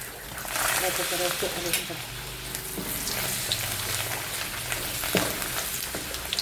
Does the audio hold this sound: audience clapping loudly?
no